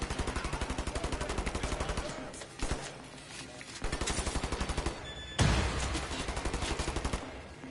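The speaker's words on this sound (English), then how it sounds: "let me switch to my machine gun before all hell breaks loose" Rapid machine gun bursts in the shooter game Wolfenstein: The New Order on PS4, loud sustained rattling volleys broken by short pauses, with a heavier blast partway through.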